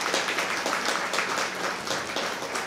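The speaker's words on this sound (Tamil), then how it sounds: "இந்த கோவிலுடைய நிர்வாக கமிட்டிக்கு 1 நிமிஷம் இடைவிடாத கைத்தட்டு கொடுங்க" An audience at a temple Pongal celebration claps steadily together in sustained applause, moderately distant and even, with no voices over it.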